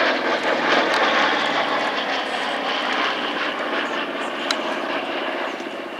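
A B-47 jet bomber flies past during an airshow display, its engines a strong, even drone that holds through most of the pass and eases off slightly toward the end.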